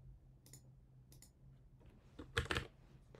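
A few quiet keyboard clicks while building a Salesforce LWC component, two faint early taps followed by a louder cluster of keystrokes near the end, close and alone.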